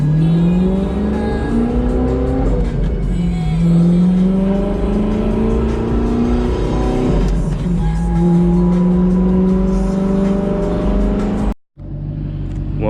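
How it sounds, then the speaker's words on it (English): 2009 Audi R8 with a V8 and six-speed manual, revving and accelerating through rising gear pulls, each climbing whine dropping at a shift, loud and close, ending in a brief cutoff. "I want you guys to welcome my 2009 Audi R8 V8 6-speed"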